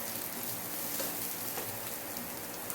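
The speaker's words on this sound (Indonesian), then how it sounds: "Kita masukin dulu bawang bombaynya. Ini kita tumis ya." Onions sizzle in a hot pan, a close, steady frying crackle throughout with no voices.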